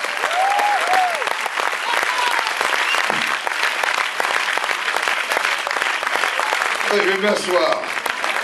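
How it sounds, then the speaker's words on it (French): A theatre audience at a film premiere applauds Gérard Depardieu with sustained, dense clapping, while someone speaks briefly over it near the end. "applaudissements s'il vous plaît"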